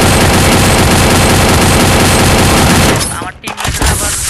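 Rapid, loud, continuous gunfire in the Free Fire video game, with a dense burst of shots cut off by a grenade blast and its ragged rumbling aftermath near the end.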